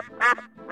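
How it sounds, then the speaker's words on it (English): A duck gives one loud, close quack, a short nasal burst with a brief tail, heard alone. "The sound of ducks, quack."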